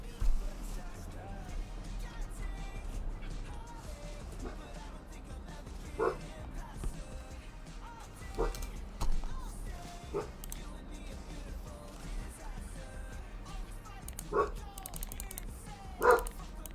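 A dog barks a few short, sharp times at intervals in a quiet room, fairly close, over a low background hum and faint voices.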